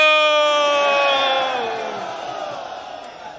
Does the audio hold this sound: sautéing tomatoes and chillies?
no